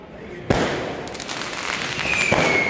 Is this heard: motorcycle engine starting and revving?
no